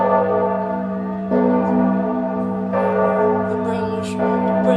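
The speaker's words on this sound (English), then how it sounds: "bells, those Spanish bells of Santa Maria. Bong, bong, bong." Spanish church bells of Santa Maria ring loudly and continuously, deep tolling strikes overlapping with a sustained resonant hum.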